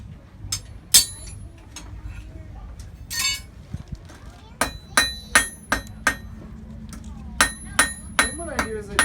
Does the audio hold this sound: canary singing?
no